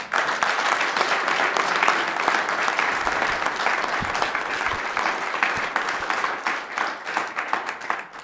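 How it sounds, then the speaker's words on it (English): A warm round of applause for winners and participants at a city council meeting, many hands clapping steadily in a hall and gradually thinning toward the end. "give a warm round of applause for each of the winners and the participants"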